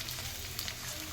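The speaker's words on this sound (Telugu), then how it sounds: "ఇలాగే అన్నీ ఫ్రై చేసేసుకొని పక్కన పెట్టేసుకుందాం" Pani puri puris fry in hot oil with a dense, continuous sizzle and bubbling crackle, close and steady throughout the short moment.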